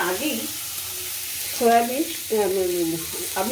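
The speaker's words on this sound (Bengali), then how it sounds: "সবজি নাড়াচাড়া করতে করতে আমি" Vegetables for a dalia pulao hiss and crackle in a hot pan as they are stirred, with a steady frying sizzle under a voice that speaks intermittently.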